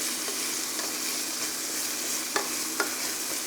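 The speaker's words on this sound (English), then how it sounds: "Hopefully you can hear me over the sizzling." Carrots and zucchini for soup sizzle in a pan with a steady, close crackling hiss, and two faint knocks from stirring come near the end.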